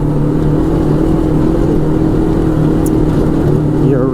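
A side-by-side Arctic Cat Wildcat 1000X drives along with its engine droning steadily and loudly throughout, a low continuous hum with no clear revving peaks.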